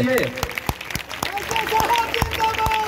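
A rally crowd in Badgaon, Ara, gives scattered, uneven claps, a few sharp hand-claps at a time, while someone talks over them.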